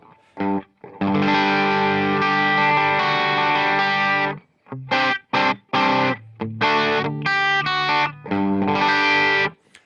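An electric guitar played through an amp miked with an SM57 rings out in sustained notes and choppy phrases, with a slightly broken-up, gritty tone and no talking.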